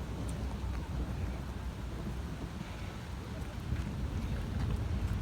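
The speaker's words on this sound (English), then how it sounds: "Thundering." Thunder rumbles low and continuous through steady rain and wind noise outdoors, with no clear single crack over the five seconds.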